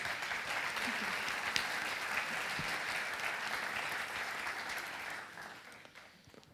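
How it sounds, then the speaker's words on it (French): Steady, dense applause from an audience at a French awards event greets an a cappella quintet, holding even for about five seconds before tapering off. "Je vous remercie d'applaudir, s'il vous plaît, chaleureusement les Soulmates."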